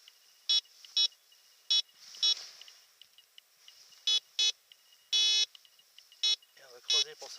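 Land Ranger Pro metal detector sounding over aluminium: about ten sharp electronic beeps with bright harmonics in an irregular rhythm, some short and one longer, close and clear over a quiet hiss.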